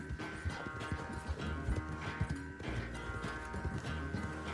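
Horse hooves clip-clop steadily at a gallop in Red Dead Redemption 2, a rhythmic, fairly loud pounding over a dense bed of game music and ambience.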